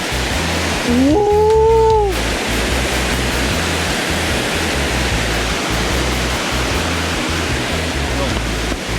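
Water rushes and flows beneath a wooden bridge in a loud, steady, broadband wash. A short rising call or squeal cuts through near the start.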